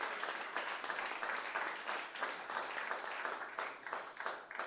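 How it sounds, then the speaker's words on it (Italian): A crowd at a food event near Venice breaks into applause, a brisk, fairly close patter of many hands clapping in uneven bursts throughout. "ecco, un bel applauso."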